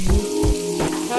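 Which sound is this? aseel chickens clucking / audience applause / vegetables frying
vegetables frying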